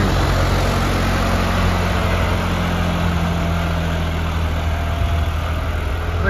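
A John Deere 5405 4WD tractor engine idles with no load, giving a steady, close, low rumbling drone that holds an even level throughout without revving.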